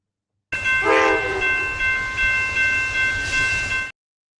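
A train sound effect plays: a loud horn blast at the start over steady rolling rail noise, a second horn note near the end, then an abrupt cutoff.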